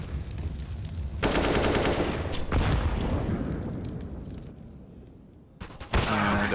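A dense, sustained rattle of rifle fire in Counter-Strike on the Anubis map during a professional IEM Katowice 2023 match, loud and continuous with overlapping bursts that thin out briefly near the end.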